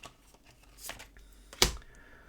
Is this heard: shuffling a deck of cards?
yes